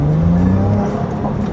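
A Ferrari 296 GTB hybrid accelerates hard in qualifying mode, with its engine and electric motor at full output, giving a brief, loud, rising engine drone heard up close.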